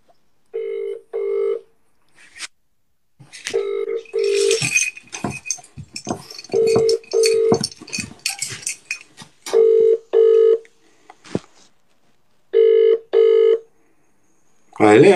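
A phone call rings out to a landlord, with repeated pairs of electronic ringback tone bursts separated by pauses. Someone talks in the gaps between the rings.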